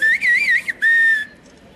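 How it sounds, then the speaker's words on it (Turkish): Turkish whistled language (kuş dili) of the Eastern Black Sea: a loud, clear human whistle with a wavering, warbling pitch in two phrases split by a brief break, then a fading tail. "Kuş dili ya da ıslık dili."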